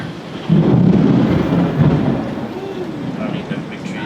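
Thunder rumbles loudly through a summer storm with steady rain, a deep low roll swelling after a quiet start and fading into continuous rain noise, with faint voices in the background.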